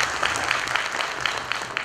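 Audience applause filling a hall, a brief burst of steady, rhythmic clapping from a seated crowd, fairly close and even.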